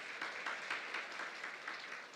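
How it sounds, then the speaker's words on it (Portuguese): Steady applause from a crowd, continuous and even throughout, sounding somewhat distant and moderately quiet. "Uma salva de palmas para o nosso departamento de música."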